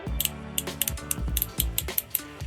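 Crisp mechanical clicks of a small notched rotary switch, turned in quick irregular bursts, close up with no speech.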